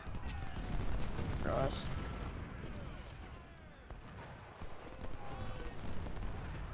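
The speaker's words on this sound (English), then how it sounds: "It looks like they have shifted their fire to our cavalry" American Civil War battle in Ultimate General: Civil War, with rolling musket volleys and distant artillery booms rumbling together under a man's speech.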